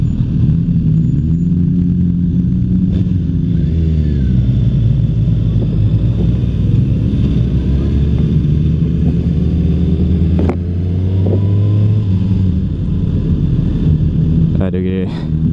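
A 2016 Suzuki GSX-R1000 sport bike rides along a road heading onto the interstate, its engine a steady loud drone with shifting pitch and heavy wind rumble throughout, and someone talks over it.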